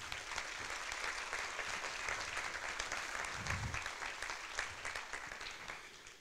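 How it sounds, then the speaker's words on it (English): A round of applause from a React Native conference audience: many hands clapping in a steady, even wash that carries through the whole stretch, heard from a distance and fairly soft. "So I think they deserve a round of applause."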